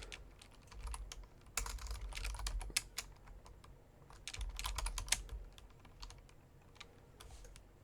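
Typing on a computer keyboard while searching for a QGIS plugin, close clicky keystrokes in quick bursts with short pauses between, no talking.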